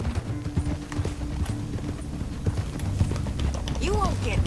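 Hooves clop on the ground and a horse whinnies near the end in the video game Red Dead Redemption 2, with people talking over the riding sounds.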